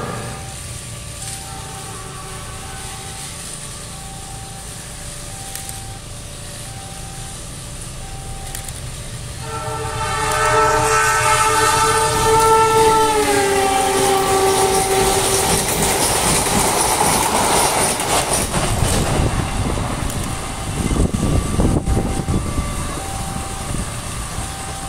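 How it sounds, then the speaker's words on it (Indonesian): A special luxury compartment passenger train runs past level crossing JPL 154 in Karawang, its rumble swelling to a loud close pass with clacking wheels and horn tones, then fading to steady running noise. "itu dia tadi KLB-nya sudah lewat."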